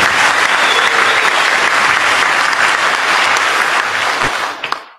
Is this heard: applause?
yes